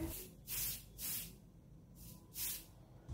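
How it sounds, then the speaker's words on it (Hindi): Yardley London Gentleman Classic deodorant body spray hisses from its nozzle in three short bursts, each roughly half a second, close to the listener and fairly soft against a quiet room background. "अब ये जो नोजल स्प्रे दिख रहा है ना यहाँ से होल्ड करके पंद्रह सेंटीमीटर दूर से करो उसको स्प्रे"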